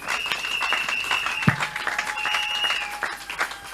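A church congregation at a Sunday thanksgiving service applauds steadily at moderate distance, the clapping fairly soft, with faint sustained tones humming underneath.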